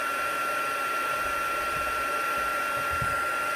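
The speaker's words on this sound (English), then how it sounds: "my heat gun's not super loud compared to some of them" A heat gun blows steadily on a cake topper, a continuous even whirring hiss with a faint high whine, moderately loud and unbroken throughout.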